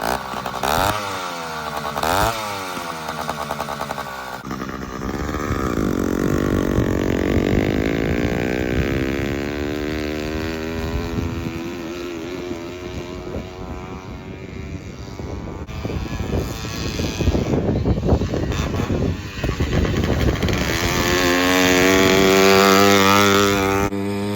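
A Razor two-stroke dirt bike engine revs up and sputters, then settles into a raspy, uneven buzzing idle close by, with occasional throttle blips.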